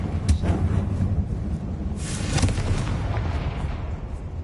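A Bombarda blast spell goes off in Hogwarts Legacy, giving a loud, close burst of explosive rumble with a second heavier boom about two seconds later over a constant low game backdrop.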